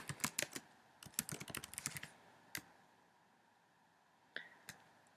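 Bursts of quick key clicks on a computer keyboard, a fast flurry in the first two seconds, then a single tap and a short pair later, close and crisp with no talking.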